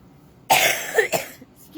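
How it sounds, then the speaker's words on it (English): A person with a lingering cough coughs a couple of times close to the microphone, short harsh bursts with a throaty catch, in an otherwise quiet room. "Excuse me, still got this cough."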